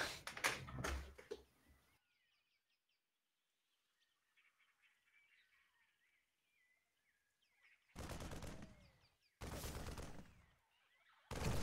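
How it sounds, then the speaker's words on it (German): Bursts of rapid automatic gunfire from marines in StarCraft II, loud and close, separated by a quiet stretch where distant chirps and faint background sounds come through. "Ich höre Schüsse von meinen Marines"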